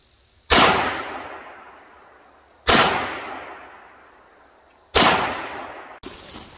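Pistol gunshots from 9mm, .40 caliber or AR-9 pistols fired outdoors on an overland trip, three loud sharp reports spaced about two seconds apart, each trailing into a long echoing decay, with a fourth shot cut short at the end.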